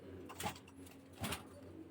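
Oman bloodline 128 Teddy pigeons, a young pair, cooing softly with two low, muffled coos about a second apart against faint background noise.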